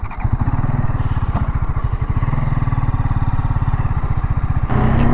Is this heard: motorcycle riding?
yes